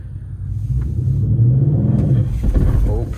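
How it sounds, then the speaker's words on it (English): A 2012 car on a new stage 4 clutch pulls away with a loud, close engine rumble that swells and bogs slightly, with a voice briefly heard near the end. "this is my first time driving on the new clutch in the 2012"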